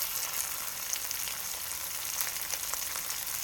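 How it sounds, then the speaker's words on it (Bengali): Drumsticks (sajna) frying in a pan, a steady soft crackling sizzle with scattered pops running evenly throughout, no voices over it. "বন্ধুরা কত সুন্দর সজনা ভাজা হচ্ছে"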